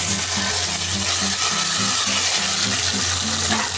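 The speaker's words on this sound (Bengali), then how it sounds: "ফোড়নটা ভাজা হওয়াটা খুব জরুরি।" Whole spices for a Bengali tempering frying in hot oil, a loud continuous sizzle and crackle filling the clip, with faint rhythmic scraping as the pan is stirred.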